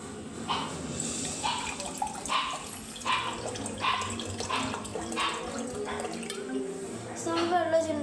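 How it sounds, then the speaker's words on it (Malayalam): Water is poured into a container in a series of soft splashing gushes with small drips between them, fairly quiet and steady in a room. "നമ്മൾ വെള്ളം ഒഴിച്ചിട്ടുണ്ട്. ഇത്രയും വരെ നമ്മൾ വെള്ളം ഒഴിച്ചിട്ടുണ്ട്."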